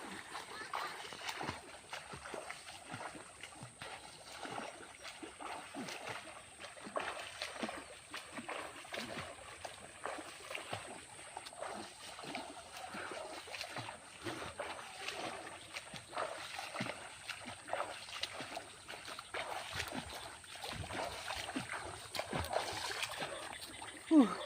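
Water splashing and churning in a pond as a person swims, steady irregular splashes fairly close throughout, with no clear talk over it.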